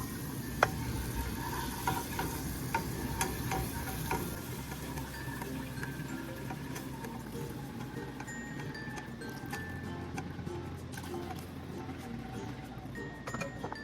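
Fresh milk is poured slowly into a pan with flour for a pizza sauce and begins to simmer, giving a steady, close sizzle with light stirring and small clinks throughout.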